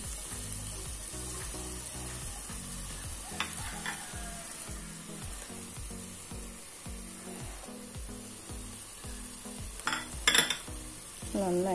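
A spoon stirs masala with chilli, coriander and turmeric powders and garam masala in a hot pan for beef, giving a steady sizzle with rhythmic scraping strokes and a few louder clinks near the end.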